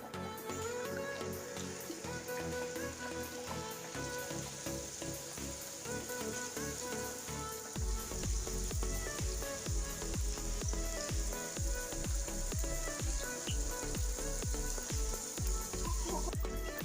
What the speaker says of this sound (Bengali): আমি এরকম গোল্ডেন কালার করে ভেজে নিচ্ছি।